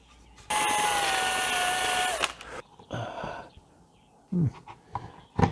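A power drill bores into the interior wall of a camper van conversion in one long, loud steady run, followed by shorter bursts and scattered clunks of handling.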